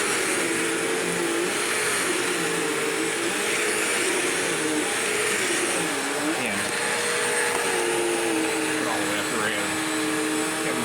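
A Bissell CleanView upright vacuum with a wooden brush roller runs on carpet, its motor holding a loud, steady whirring drone close by, with slight pitch shifts as it is pushed back and forth.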